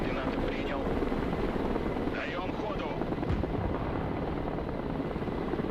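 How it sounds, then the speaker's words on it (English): A KA-29 attack helicopter in a modern military battle game, its rotor roar a dense, steady wash that holds loud and unbroken the whole time. "Look at our KA-29 here to rip up with its generous loadout of ground attack weapons"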